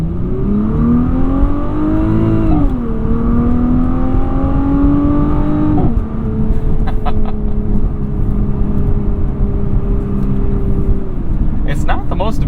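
A 2021 Nissan GT-R's engine revs up through the gears in manual mode, a loud rising drone that drops sharply at each upshift, with a quick shift around the midpoint and a steady pull after it.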